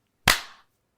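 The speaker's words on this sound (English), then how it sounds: "we can do a clap in 3, 2, 1." A single sharp hand clap, close and loud, marks the start of a podcast recording, with a short decaying ring into the room and silence on either side.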